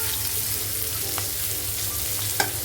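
Chopped onions fry in hot oil in a wok, giving a continuous close sizzle with a low hum beneath it. A couple of faint utensil clicks sound near the end, and no one speaks.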